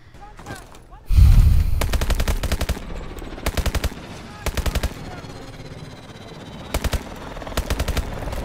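Automatic weapon fire in the Call of Duty Advanced Warfare campaign, loud rapid bursts of machine-gun shots repeating in short clusters with pauses between them.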